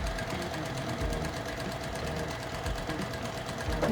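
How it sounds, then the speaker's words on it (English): A sewing machine stitches a quarter-inch seam through fabric placed right sides together, running steadily and close with a continuous mechanical whir and rapid needle rhythm for the whole stretch. "over to the sewing machine with a 1/4 inch seam all the way down on"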